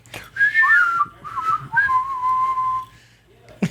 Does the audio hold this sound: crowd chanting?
no